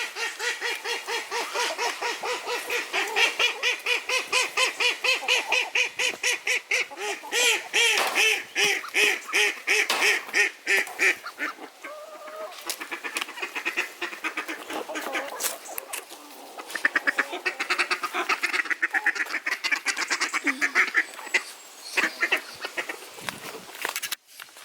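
Ducks quack loudly and repeatedly close by while being fed salad, the calls coming in dense overlapping bursts with short gaps, with a few goose-like honks mixed in.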